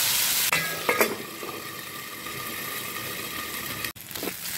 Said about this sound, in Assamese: এইখিনি মোৰ আলু ভাজি হৈ গ'ল।